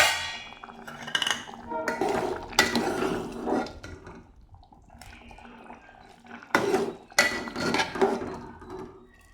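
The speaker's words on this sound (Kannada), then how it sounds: "ಇವಾಗ ಒಂದು ತಟ್ಟೆ ಮುಚ್ಚೋಣ ಇದಕ್ಕೆ" A metal plate set as a lid over a pot of cooking lentils, heard as a few ringing clangs and scrapes of metal on metal close up, with quieter gaps and a brief stir between them.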